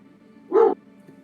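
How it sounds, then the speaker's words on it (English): A single short dog bark sounds once at moderate distance, a quick woof rising out of a low, quiet background hum. "What was that barking? Someone has a dog."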